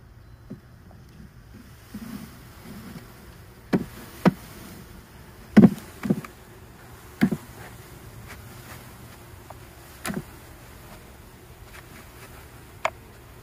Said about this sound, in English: it's perfectly fine to knock the bees out there